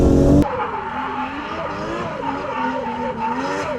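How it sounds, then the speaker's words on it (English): Toyota Cressida drift car drifts into a turn, tires squealing continuously with wavering pitch over engine roar, loud and close after a brief burst of high revving at the start. "Nice drift and angle coming into turn 1."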